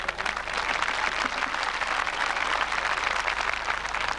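A large outdoor crowd at a road safety awareness event claps in a dense, steady wash of applause, fairly distant and continuous throughout.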